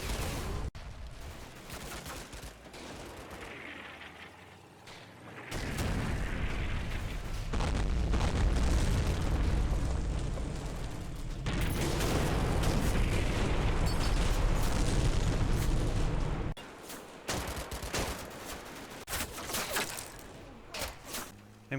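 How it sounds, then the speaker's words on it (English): Tanks shell a town in the wargame Combat Mission Fortress Italy, with heavy booming explosions and crackling gunfire rolling in long, dense bursts. Loud barrages alternate with quieter stretches of distant fire. "First Platoon tanks also start to shell the town."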